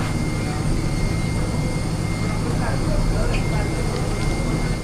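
A large airliner sits on the runway before a ten-hour flight, its engines giving a loud, steady low roar and whine heard from inside the cabin, continuous throughout.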